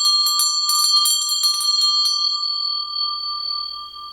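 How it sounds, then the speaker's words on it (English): A small bell rings repeatedly in quick rhythmic strikes, close and bright, then leaves a clear ringing tone that slowly fades, with no talk. "Ringing bells calls in the angels"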